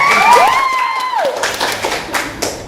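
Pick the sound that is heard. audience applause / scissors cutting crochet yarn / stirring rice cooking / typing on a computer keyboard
audience applause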